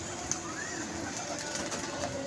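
A pigeon, a newly caught bird, coos softly in a short stretch with a steady background hiss, with no clear repeated call pattern standing out.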